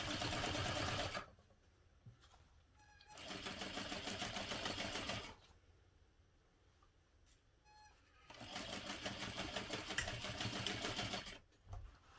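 A sewing machine sews a backpack in three steady runs of a few seconds each, close and fairly loud, separated by quiet pauses with faint handling clicks.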